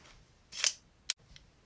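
A pair of scissors is handled during rebandaging of a stitched wound after an ER visit: a short metallic snip, then a sharp click and a faint third tick in a quiet room.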